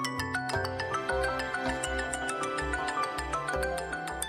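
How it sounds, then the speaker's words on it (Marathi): A phone ringtone plays in a Marathi TV serial scene, a repeating melodic electronic tune with rhythmic pulsing notes over a low bass pattern, clear and alone with no talk. "उचल उचल, फोन उचल, नाही तर त्यांचा जीव तिकडे वर खाली होत असेल."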